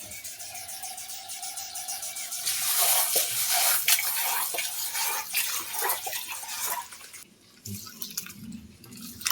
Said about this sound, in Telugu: ఒక గిన్నెలో నీళ్లు పోసుకునేసి ఎసురు పెట్టుకుందాము